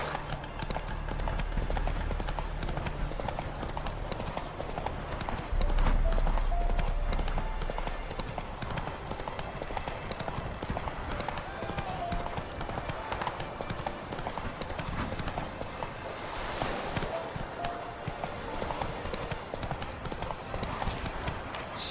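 Horse galloping in The Witcher 3, a rapid continuous drumming of hooves that stays loud and steady throughout, mixed with game ambience and occasional low voices.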